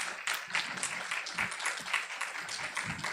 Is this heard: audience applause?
yes